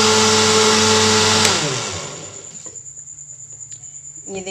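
A kitchen blender whirs loudly as it purees mango with sugar syrup and water, then winds down after about two seconds, leaving a faint high hum and soft clicks.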